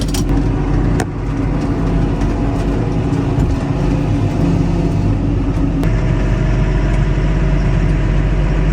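A vehicle engine running loud and close with a deep, steady rumble and hum while it reverses into a shed, punctuated by a couple of sharp knocks.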